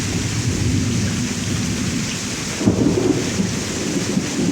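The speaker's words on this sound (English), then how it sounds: "That goes to show how bad it is with the rain." Heavy rain pours steadily during a severe thunderstorm in Pittsburg, Kansas, a dense loud roar with a low rumble of thunder swelling partway through.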